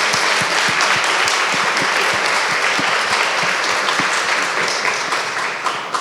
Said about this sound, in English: Would you all join me in another round of applause for Elia?